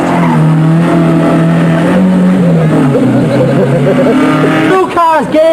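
Rally cars race loudly through a corner at the 1982 Circuit of Munster, engines roaring and revving close by, with a sharp gear-change burst near the end and an excited commentator's voice over them.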